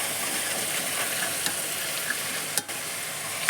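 Green peas dropped into a hot frying pan, giving a steady close sizzle and hiss with a few faint taps of stirring.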